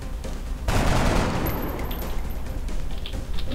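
Four XCOM soldiers open fire on an alien thin man, a sudden loud burst of overlapping gunshots that lingers in a rumbling tail and scattered follow-up noise.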